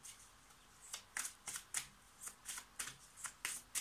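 A deck of oracle cards is shuffled by hand, giving a quiet run of about a dozen short, crisp riffling bursts in an irregular rhythm, close by with no talking.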